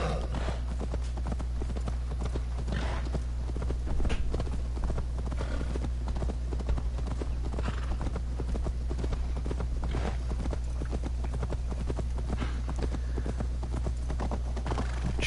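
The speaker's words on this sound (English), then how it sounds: "for this we will definitely call the horse" Steady hoof clip-clops from a horse at a trot in Assassin's Creed Valhalla, rhythmic and continuous over a constant low background hum, with faint speech now and then.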